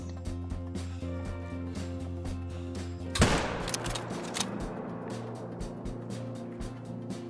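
A single sharp rifle shot fired at an animal across a lake in a hunting video game, cracking out once amid steady ambient background hum and faint engine-like drone.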